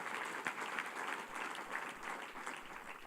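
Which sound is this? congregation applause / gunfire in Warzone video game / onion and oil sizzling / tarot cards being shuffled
congregation applause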